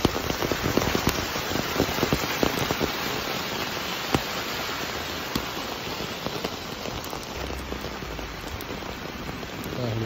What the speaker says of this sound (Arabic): ما شاء الله مطر وبرد.